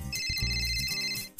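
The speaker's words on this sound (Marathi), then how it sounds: "जुगनूचा फोन, शपथ ही पण पोचली वाटतं।" A phone ringtone rings loudly and close, a bright sustained electronic melody with bell-like tones over a low, full backing that fills the moment.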